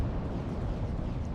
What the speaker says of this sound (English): it's almost like it's not registering the volcano cannon shots for some reason here